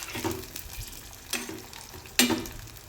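Tuber and green peas fry in a pan under a quiet, continuous sizzle, with a few separate stirring scrapes of a utensil against the pan, close by and without talking.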